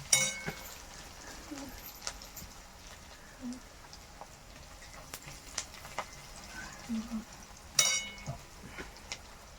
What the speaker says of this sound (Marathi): कांदा भाजायला चाल आहे